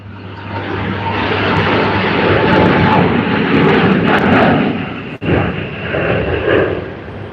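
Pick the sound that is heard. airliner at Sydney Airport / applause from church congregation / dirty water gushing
airliner at Sydney Airport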